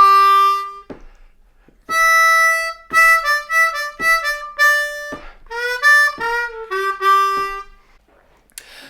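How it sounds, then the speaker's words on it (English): A second blues lick on a C harmonica, played solo in clear reedy notes. Some tones bend down and the phrases step through changing pitches, with brief pauses between the held notes. "So the second lick is going to sound like this"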